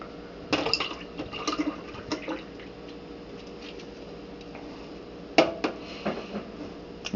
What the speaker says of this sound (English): So pour like that.